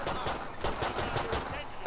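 Rapid automatic gunfire from a weapon in the video game Killing Floor 2 rattles in dense, continuous bursts with no pause across the short stretch, loud and close.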